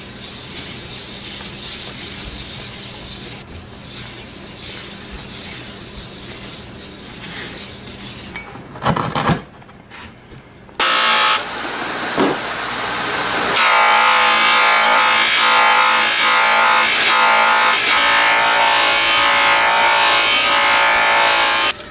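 Sandpaper rubbed by hand over a rusty axe head in steady rasping strokes, close and loud, with a short pause midway before continuous, harsher scrubbing resumes.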